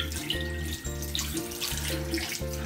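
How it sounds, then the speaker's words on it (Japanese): A tap runs into a sink as hands are washed at home, a steady rush of water under background music for a few seconds. "手洗うね"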